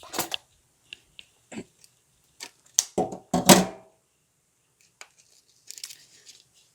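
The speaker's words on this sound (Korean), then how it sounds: "테이프로 엄청 쳐놔가지고 가위로 잘라야겠다." Scissors snip through heavy packing tape and the tape is torn off a package of saltwater aquarium supplies such as activated carbon, heard as close, intermittent bursts of tearing and crinkling with quiet gaps between them.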